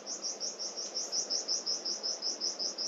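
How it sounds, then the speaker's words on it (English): Small birds chirp at a free riverside campsite in Australia, a quick, evenly spaced run of high tweets repeating steadily and fairly faintly over a soft outdoor hush. "And the birds chirp on cue just as I say that."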